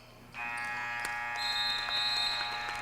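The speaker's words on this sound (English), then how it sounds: "to beat the buzzer" A high school basketball game buzzer sounds at the end of the first quarter in a Lake-Lehman versus Wyoming Seminary gym, a loud sustained electronic tone that starts abruptly and holds steady to the end.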